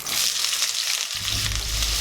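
Chicken sausage fries in white oil in a wok over a medium flame, a loud, steady close-up sizzle; a low rumbling layer comes in about halfway and continues under the hiss.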